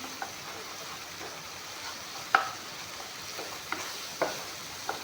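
Cumin, black pepper powder and spice paste fry gently in a pan with a quiet, steady sizzle, broken by a few soft clicks and taps of a spoon stirring.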